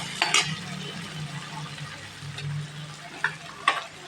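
Chopped tomatoes fry in hot oil in a pan, giving a steady sizzle while a spoon stirs them, with a few sharp scrapes and clinks against the metal.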